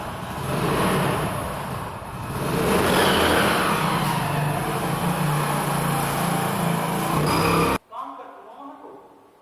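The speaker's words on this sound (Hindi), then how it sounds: "सॉरी गाइस, थोड़ा बाइक की वजह से आपका थोड़ा डिस्टर्बेंस हो गया होगा" A motorbike roars past close outside, its loud, buzzing engine drone swelling and holding for several seconds before dropping away sharply.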